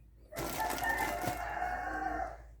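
A rooster crows once in the background of a crafting session, a faint, drawn-out call lasting about two seconds.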